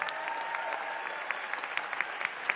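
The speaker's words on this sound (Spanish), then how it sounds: "un aplauso, por favor" Applause from an audience at a university forum at Tec de Monterrey, a steady wash of many hands clapping at moderate distance, with scattered sharper claps standing out near the end.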